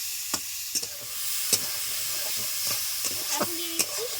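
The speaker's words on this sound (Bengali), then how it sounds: "সবকিছু দিয়ে 2 মিনিট নাড়াচাড়া করে নিলাম।" Cabbage, potato, chopped tomato and slit green chili sizzle and hiss in a pan for village-style cooking, with a spatula scraping and clicking at irregular intervals as it stirs.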